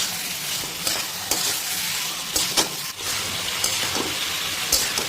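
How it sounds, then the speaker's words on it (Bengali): Fish curry masala fries hard in a pan over a high gas flame. A dense, loud, continuous sizzle carries occasional sharper scrapes and spatters, close by and without talk. "তো এখানে দেখুন গ্যাসের ফ্লেমটাকে করে দেবো হাই, দিয়ে এইভাবেই হাই ফ্লেমে একটুখানি কষে নেবো জাস্ট 2 মিনিট"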